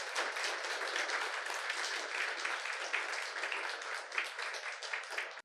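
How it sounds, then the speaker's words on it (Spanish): A church congregation applauding together during a Spanish-language service, a full, even wash of clapping that holds steady for several seconds without letting up. "Démosle un aplauso al Señor."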